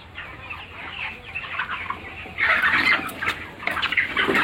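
Chickens in a poultry farm shed cluck and squawk close by in dense overlapping calls, growing louder and busier toward the end.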